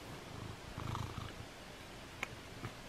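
A cat purrs softly and close while eating a treat, a low continuous rumble with a few faint clicks and a small snort-like sound near the end.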